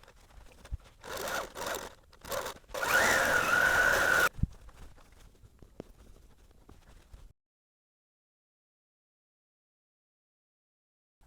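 A longarm quilting machine basting a vintage quilt loaded on the frame, with short bursts of whirring stitching and a longer run of steady motor hum, then quiet handling noises before silence.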